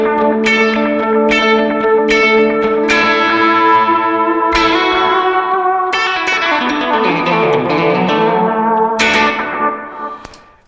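Electric guitar played through a worship pedalboard with reverb and delay, sustained chords and struck notes ringing out with long echoing tails and a swirling modulated wash, loud and alone, fading at the end.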